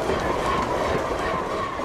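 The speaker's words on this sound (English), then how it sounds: "the train seemed to fly by." An Amtrak Talgo train rushes past at nearly 80 miles an hour on a test run, a loud, continuous roar of wheels and wind close by with no break.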